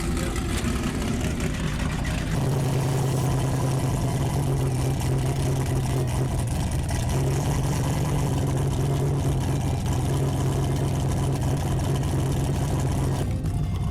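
A turbo LS-swapped Fox body car idles while it warms up, a loud, steady, rumbling engine drone running unbroken and close for the whole stretch, with a slight change in tone early on.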